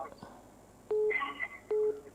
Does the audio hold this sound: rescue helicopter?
no